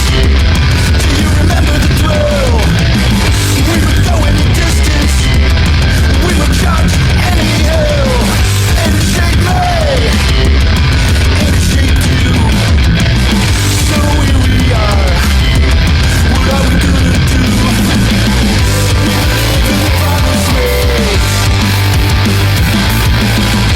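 A loud, dense punk rock recording blasts continuously with distorted guitars, pounding drums and shouted vocals, thick and relentless from start to finish.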